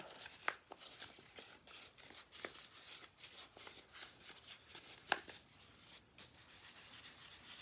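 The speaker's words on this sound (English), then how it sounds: "Okay, I can crumple this up." Paper is crumpled by hand during a card-making craft, quiet continuous crinkling and rubbing with a few sharper crackles, close and alone.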